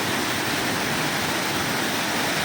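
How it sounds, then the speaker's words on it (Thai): A waterfall in a rocky forest setting at Khao Phu Taphaeng, its steady broadband roar of falling water continuing without break, loud and close, with no voices over it. "น้ำตก"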